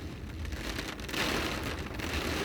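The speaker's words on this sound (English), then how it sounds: "Can you even hear me over the rain?" Rain drums steadily on a car, a soft continuous patter that grows slightly heavier partway through.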